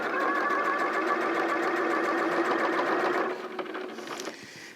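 Sewing machine stitching steadily along the edge of a zip tape, a continuous close mechanical whir with rapid rhythmic needle ticks that slows and fades toward the end.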